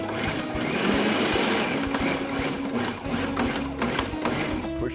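Food processor whirring in short pulses through kale pesto with garlic and olive oil, a loud close motor drone with brief stops and restarts.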